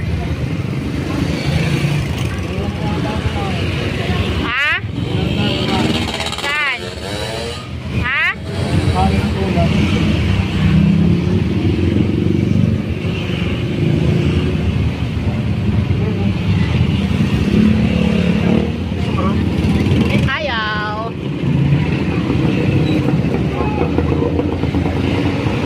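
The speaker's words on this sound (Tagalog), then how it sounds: "Masyadong matraffic." Heavy night street traffic in Taytay heard from a moving tuktuk, with a constant engine rumble, passing vehicles and occasional horn blasts, while a voice talks over the noise.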